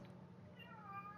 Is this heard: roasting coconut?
no